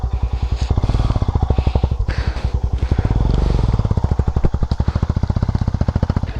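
A Yezdi adventure motorcycle on a jungle off-road trail idles with a fast, even thump, its engine swelling briefly as it is revved and turned around close by.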